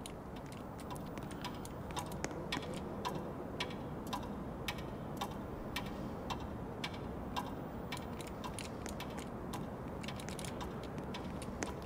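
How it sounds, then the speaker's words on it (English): Clocks tick inside a house in the Roblox game Bloxypolis, a regular sharp ticking that runs evenly at moderate volume over a low, steady background hum, with no speech. "I also got the clocks inside the house working so you can hear it ticking"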